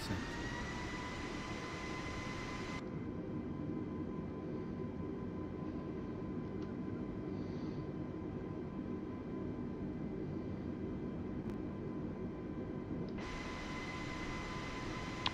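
Airbus A320neo jet engines throttle up inside the cabin of an Air Canada flight, a steady, loud roar with a faint whine running through it.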